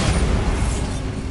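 A Bombarda blasting spell goes off in Hogwarts Legacy, a single dense, rumbling boom that stays loud and low across the whole brief moment.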